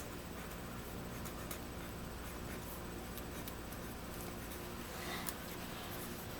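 A pen scratches across paper in a faint, continuous scrawl of soft strokes, heard close and alone at low volume.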